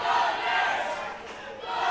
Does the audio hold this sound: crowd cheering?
yes